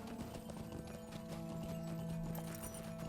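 A horse's hooves clip-clop at a steady trotting rhythm while a rider travels across the snowy Forochel region in Lord of the Rings Online. Sustained tonal game music plays underneath.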